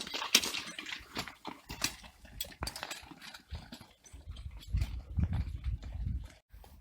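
A Fjord horse's hooves thud and clop irregularly on wet soil while hoeing vegetables, mixed with scattered clicks and rustles, close and uneven in rhythm.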